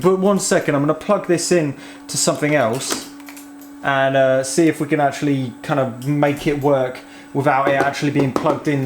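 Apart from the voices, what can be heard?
No distinct noise like a dog, phone or traffic.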